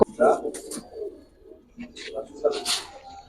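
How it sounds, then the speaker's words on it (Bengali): Giribaj pigeons give soft, rounded coos in short bursts at close range, mixed with people talking nearby. "কবুতর গুলো এইভাবে দেখাইতেছি"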